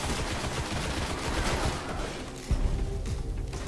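Dense automatic gunfire in the game Destiny, a loud, fast, continuous burst of shots with a heavier impact partway through, heard close with no talking.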